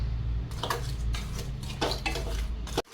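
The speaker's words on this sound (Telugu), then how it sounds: "ఇదంతా గడ్డలు ఇవన్నీ కరిగిందాక మనం ఇలా తిప్పుతూ ఉండాలి" A spoon stirs ginger candy syrup in a pan, producing quick metallic scrapes and clinks in a rapid irregular run over a low background hum, ending in a sharp knock.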